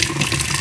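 A bleach-dyed T-shirt rinsed under a running tap, a brief loud rush of close faucet water splashing over fabric in a sink.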